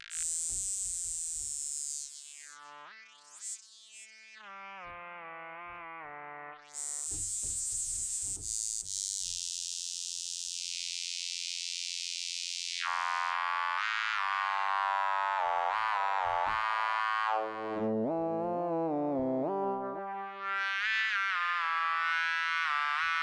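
Podolski software synthesizer playing a bright lead whose tone is swept by the mod wheel, which also moves the filter. Notes glide and bend continuously, loud and upfront with no pauses in sound and no voice.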